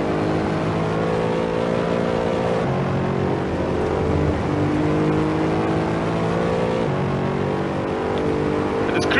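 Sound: Mercedes race car accelerating on Monza straight, Assetto Corsa video game

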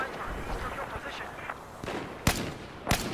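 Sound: gunshot in Battlefield 4 video game

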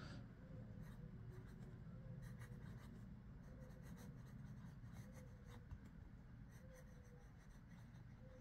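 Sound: Waterman Expert fountain pen nib writing on paper

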